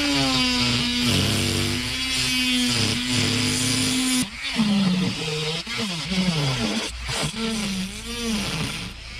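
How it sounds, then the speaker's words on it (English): A Dremel fitted with a Kutzall Extreme flame burr on a 1/8 shaft carves a wood Santa spirit, giving a close, high-pitched whine that rises and dips as the burr bites into the wood. "let's be using a Dremel with a Kutzall Extreme flame burr bit 1/8 shaft"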